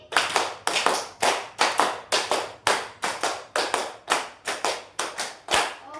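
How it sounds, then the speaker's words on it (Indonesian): A classroom of students claps a counted rhythm in tight bursts of quick claps, roughly fifteen sharp groups in steady succession, loud and close with no talking over them. "Tepuk 1, tepuk 2, tepuk 3, tepuk 4, tepuk 5, tepuk 5 4 kali"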